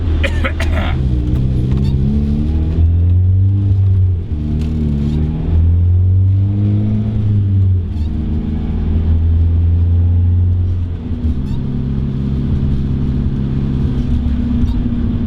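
Turbocharged Mazda Miata engine revving loud and close as it accelerates, with pitch climbing, dropping at gear shifts around four and ten seconds, then pulling steadily again under occasional voices.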